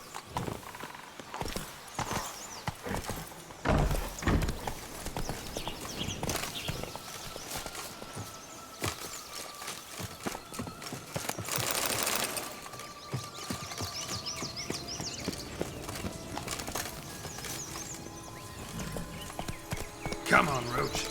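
A horse's hooves clip-clop at a steady pace in The Witcher 3 video game, recurring through the clip under a player's speech and game sounds, with occasional louder hoofbeats and bursts of effects.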